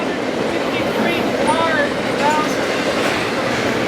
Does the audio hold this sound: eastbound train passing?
yes